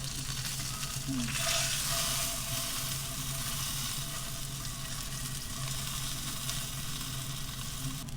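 Salmon fillet with crispy skin sizzling steadily in a pan at a van campsite, a continuous close frying hiss with a low hum beneath and no talk.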